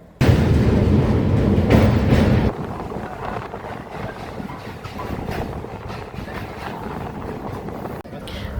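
A passenger train crossing the Kolaghat bridge over the Rupnarayan river, heard from inside as a loud rumbling clatter of wheels that drops to a steady, lighter rolling hum after a couple of seconds.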